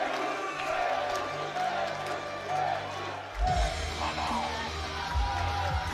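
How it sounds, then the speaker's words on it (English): A crowd of about 2,000 at a powerlifting championship in Sheffield cheers steadily, with whoops and yells, then swells louder midway as the roar builds into a chant. "Oh, listen to the crowd cheering."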